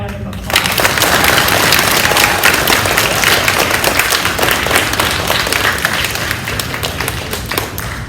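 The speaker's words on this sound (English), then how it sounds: "Let's have one more round of applause." A fifth-grade awards assembly audience breaks into applause after a student is congratulated, a full burst of clapping starting abruptly and continuing loud and steady, with scattered taps and thumps.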